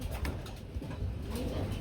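Several pigeons coo in low, throaty rolling calls, overlapping and repeating close by without pause.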